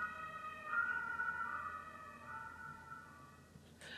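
A police car siren passes by in the street, its wailing tones clear and fairly close for a few seconds before fading under a low traffic rumble, with no talk.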